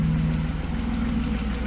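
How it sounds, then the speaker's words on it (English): A drift car's engine idles steadily with a low, even rumble and a faint rhythmic knock, loud and close with no voices. "Engine is running."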